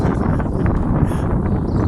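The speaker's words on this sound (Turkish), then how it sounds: "Çok rüzgar var çok" Strong wind in Malta buffets the microphone, producing a constant loud low rumble throughout.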